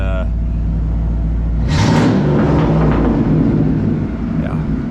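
Green 1994 Ford F150 4x4 truck idling with a steady low engine rumble that swells briefly, with someone talking over it.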